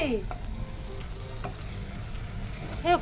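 Mango and onion fry together in a pan, a soft continuous sizzle with faint scraping of stirring and a brief clatter near the end.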